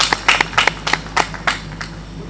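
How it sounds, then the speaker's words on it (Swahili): Scattered applause for a deputy minister of foreign affairs and East African relations at a Kiswahili Day celebration, a handful of people clapping in uneven bursts that quickly thin out. "makofi kwake tafadhali"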